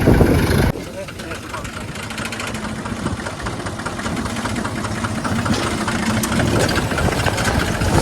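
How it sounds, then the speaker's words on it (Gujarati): A tractor engine runs nearby with a steady, throbbing idle rumble that holds throughout, while people talk over it. "પુના ટ્રેક્ટર લઈને આવી ગયો"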